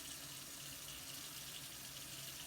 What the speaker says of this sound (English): So I'll give it another rinse.